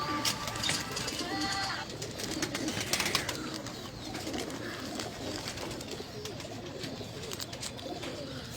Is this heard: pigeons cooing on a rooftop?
yes